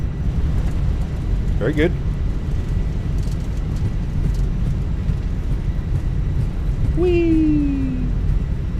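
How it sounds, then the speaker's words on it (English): Thrust reversers on a Fenix A320 in a flight simulator during landing rollout at LaGuardia give a steady, loud low roar throughout, with brief voices talking over it. "Nose down gently, reversers are out."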